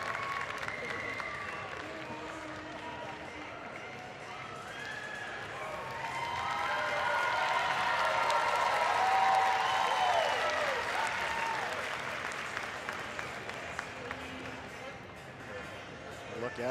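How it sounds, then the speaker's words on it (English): A velodrome crowd at a women's keirin heat of a track cycling Nations Cup in Milton, Canada, applauds and cheers, swelling to a loud peak midway and then easing, with an announcer talking over it. "And a Lauriane Janae of Canada gets the ovation from the crowd."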